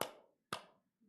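Two sharp hand claps spaced about half a second apart, close and loud, each ringing briefly in a church sanctuary, followed by a faint third tap.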